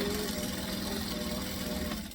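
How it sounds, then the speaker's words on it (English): Domestic sewing machine running fast and steady at a 2.5 stitch length, stitching forward and back-stitching while making a bag, with a loud continuous motor whir and rapid needle clatter throughout. "I really just like to rev my sewing machine"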